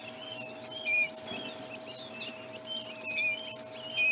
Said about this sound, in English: that one's chirping.